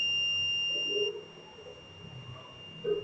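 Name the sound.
microcontroller project buzzer sounding when pressed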